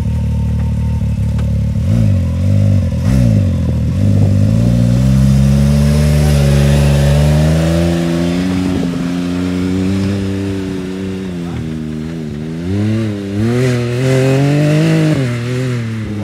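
A Can-Am Maverick X3 side-by-side launches at wide open throttle, its engine roaring loud and close with repeated rising revs and shifts over about sixteen seconds, with clatter and wind noise and no talk.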